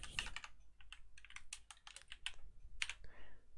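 Fingers type on a computer keyboard while entering code, with quick, uneven clicks and taps, close and fairly quiet, and no talking.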